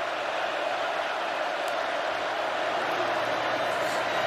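Steady, dense roar of a college football stadium crowd at a Tennessee Vols versus Florida Gators game, a continuous wash of cheering and noise with no breaks, with faint talk mixed in underneath.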